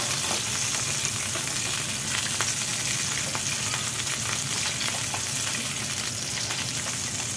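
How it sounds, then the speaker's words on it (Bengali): Eggs fry in a little oil in a wok (kadai) for egg pulao, giving a loud, dense sizzle that crackles continuously and evenly, close up, with no voices. "এবার আরেকটা কড়াই বসিয়ে তাতে সামান্য তেল দিয়ে এবার ডিমগুলোকে হালকা লাল লাল করে ভেজে নিচ্ছি।"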